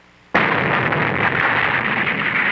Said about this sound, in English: This mechanical explosion was caused by moisture in concrete.